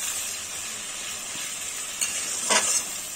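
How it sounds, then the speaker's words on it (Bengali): Chopped tomato and onion frying in a pan for a soybean curry, a close steady sizzle with a brief louder hiss and a stir or scrape near the end, no speech. "টমেটো কুচোটা দিয়েও আমি ভাজা ভাজা করে নেব।"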